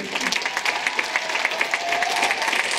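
Audience applause rings out at the PIFFF 2022 film festival closing ceremony for the festival's director, a sustained dense patter of many hands that lasts the whole moment.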